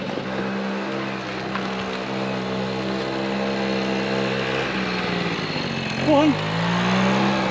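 A Quadzilla Buzz 50cc kids' quad bike engine runs at a steady, buzzy idle throughout after being tuned and warmed up, with a brief voice near the end over the drone.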